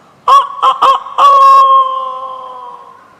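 A man imitates a rooster crowing, giving several short loud clucking bursts before one long drawn-out crow that fades away.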